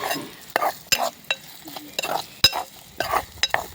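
A spoon scrapes and taps in a pan as ingredients are stirred and roasted, with irregular sharp clinks and scrapes over a faint sizzle.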